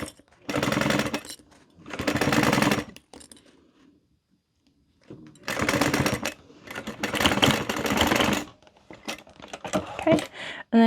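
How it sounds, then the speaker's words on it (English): A sewing machine stitches through the stacked fabric layers of a wristlet in several bursts of rapid mechanical chatter, stopping and restarting, close and fairly loud with no talk. "when we're sewing all the layers together, stitching all the way across"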